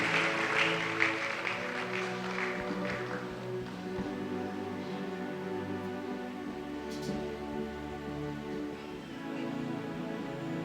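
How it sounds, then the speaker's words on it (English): A church congregation at a Tuesday celebration service claps in a quick rhythm that fades after a few seconds, under music that carries on throughout. "Clap for them."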